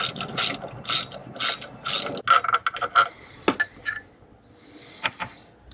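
Ratchet wrench with a 10 mm socket clicking as it turns a bolt on a serpentine belt tensioner or idler pulley, quick bursts of close, crisp pawl clicks with short pauses between strokes.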